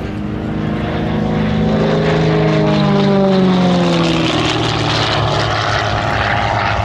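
An Extra 330 or Gamebird aerobatic propeller aircraft performs a stall turn and rapid roll at Sywell Airshow. Its loud, continuous engine drone is close and steady, with the pitch sliding as the plane climbs and dives.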